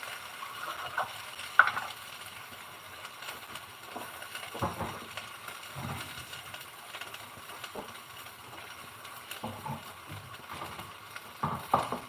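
Potatoes stirred into sautéed garlic and onion in a pan, a faint, low sizzle broken by scraping stirs and soft clunks at irregular intervals, with no one talking.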